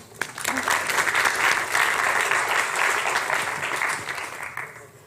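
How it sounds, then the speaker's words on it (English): An audience at an academic symposium applauds Dr. Amineh Ghourbani of the Technical University of Delft, the clapping rising quickly into a full, steady round before tapering off toward the close. "Give her a round of applause"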